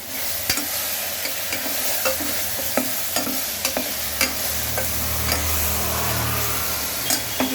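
Onions sauté with mint and coriander in a pan for a plain kuska biryani, giving a steady close sizzle broken by regular sharp scrapes and taps of a stirring spoon.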